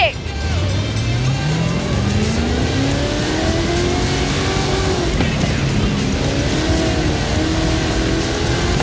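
A monster truck with a 540 cubic inch Chevrolet engine on 66 inch Terra tyres revs and accelerates in a racing game, its engine note climbing steadily and loud throughout, with a voice talking over it.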